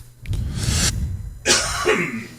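Two harsh coughing bursts, close and loud, the first longer and rough, the second sharper, with a throaty rasp trailing after.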